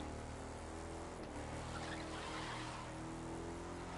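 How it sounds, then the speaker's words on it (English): A Jeep SUV drifting in the racing game The Crew 2, with a steady loud engine roar and sustained tire squeal across the whole stretch, no voices. "It still drifts pretty well on everything, like, pretty good handling for an SUV."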